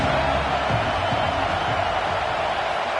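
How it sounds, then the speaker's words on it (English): A stadium crowd at an Ohio State college football game makes a steady, dense roar of noise that holds at a constant level throughout. "This crowd trying to make life miserable for this offense."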